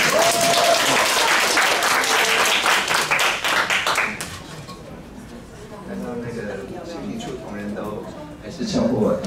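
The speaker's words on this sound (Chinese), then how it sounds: "那让我们以热烈掌声来欢迎唐部长。" An audience at a public-private sector women's talent seminar applauds warmly to welcome a minister, loud continuous clapping that fades after a few seconds into quieter room sounds.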